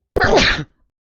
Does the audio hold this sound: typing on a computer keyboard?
no